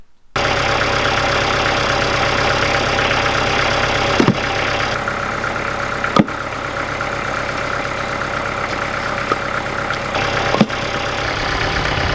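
A tractor engine idles on an off-grid homestead with a loud, steady, close rumble that runs without a break, marked by a few brief knocks or clunks over its low drone.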